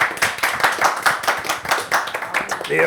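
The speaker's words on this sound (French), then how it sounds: "Il faut les applaudir quand même parce que c'est très bien." Audience at a media gathering clapping for the technical team, a short burst of uneven, close hand claps with voices talking over it.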